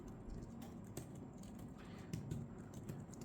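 Soft, light keystrokes on a Concept Kart B102D tablet keyboard, a quiet scattered patter of muted clicks close up with no talking.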